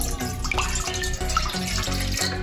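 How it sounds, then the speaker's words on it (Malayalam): Water pours steadily into a cooking pot set on the stove for veg pulav, a continuous close splashing stream with no talk. "ആദ്യമായിട്ട് 1 പാത്രം അടുപ്പിൽ വയ്ക്കുക, എന്നിട്ട് വെള്ളം ഒഴിക്കുക."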